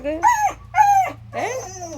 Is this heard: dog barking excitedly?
yes